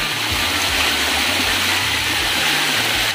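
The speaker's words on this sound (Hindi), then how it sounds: "पूरा पानी बहसे" A waterfall at Baihata Chariali near Guwahati, Assam, pours water down in a loud, steady rushing roar that fills the whole stretch without a break, with a low rumble underneath and no voices.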